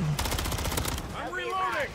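A grenade launcher fires in MW3 Zombies, giving a quick burst of loud, closely spaced shots at the start that gives way to warbling, sweeping game effects, with voices faintly mixed in.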